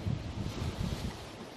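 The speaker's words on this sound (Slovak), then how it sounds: "Neviem, či ma aj dobre počuť, pretože oceán je veľmi búrlivý." Stormy ocean surf on the Mexican coast, with a steady, loud wash of waves and wind buffeting the microphone throughout, without any voice.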